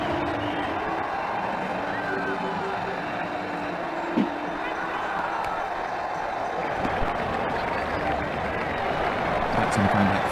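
A cricket crowd in the video game Ashes Cricket 2009 keeps up a constant dense murmur with scattered claps, and a voice speaks over it; one brief louder knock stands out partway through.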